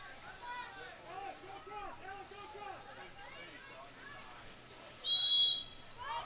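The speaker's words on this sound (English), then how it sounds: "Whistle there against Israel's the goal scorer for the Aztecs" A referee's sharp whistle blast near the end cuts through an announcer's steady commentary at a women's water polo match, with faint crowd hubbub underneath.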